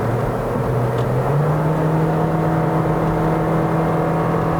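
A 2017 Toyota Vios Sports Edition with a CVT revs steadily from inside the cabin, its engine drone holding a smooth, continuous pitch that dips slightly and settles as it upshifts, with no talking.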